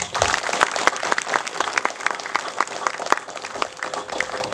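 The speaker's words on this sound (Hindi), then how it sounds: "आइए उनको धन्यवाद देते हैं, सबकी तालियां मारे उनके लिए।" A crowd applauding steadily, dense overlapping claps filling the whole stretch at moderate loudness, with no talking over it.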